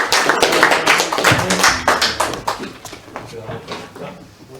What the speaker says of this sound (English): Let's give him a round of applause for Mr.